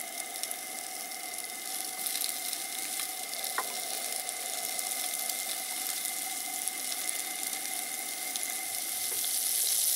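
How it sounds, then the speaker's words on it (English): Sausages fry in melting butter in a cast iron pan, giving a steady, even hiss and crackle that carries on unbroken, with no voices over it. "butter's melting pretty good. Sausages are just now starting to fry."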